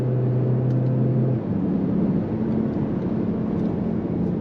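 Cupra Formentor 245 hp hybrid in Cupra mode, its Active Sound engine note droning steadily from inside the cabin, a sustained low tone that shifts pitch partway through, with no clear pops standing out.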